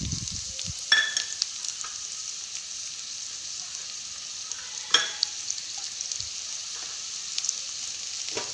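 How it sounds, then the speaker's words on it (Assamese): Chopped onions dropped into hot oil give a steady close-up sizzle and hiss, with a couple of sharper crackling bursts as the pieces hit the pan and a faint stir or two, no talking. "सो तेल गरम হৈ গৈছে, এতিয়া আমি ইয়াত পিঁয়াজখিনি দি দিম কাটি থোৱা"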